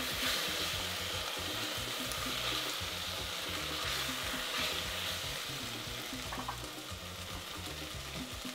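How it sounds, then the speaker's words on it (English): Jollof risotto simmers in a pan as liquid is stirred in, giving a soft, steady sizzle and bubbling with faint scraping throughout, fairly quiet and without talk. "Slowly stirring in the liquid."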